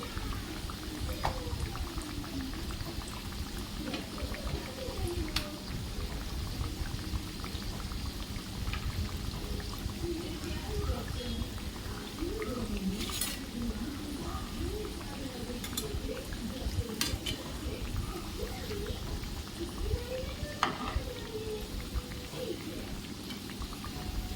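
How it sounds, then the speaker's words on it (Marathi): Patties fry in oil over a low gas flame, giving a steady soft bubbling and crackling sizzle with scattered pops throughout, moderately loud and close. "आपण असे कमी गॅसवरच आपले पॅटीस मस्त असे छान तळून घेणार आहोत"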